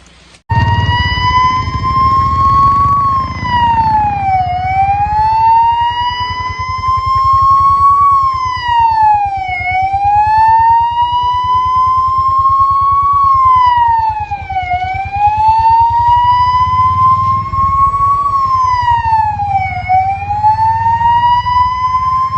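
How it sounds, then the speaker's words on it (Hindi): A welfare foundation's free ambulance in India sounds its siren, a loud, close, continuous wail that rises and falls in a slow repeating cycle over a low engine rumble, with no talk. "सरीमस्तान गुजर वेलफेयर फाउंडेशन की एम्बुलेंस जो आज यूपी जा रही है।"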